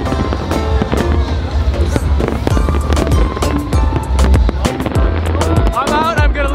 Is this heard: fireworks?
yes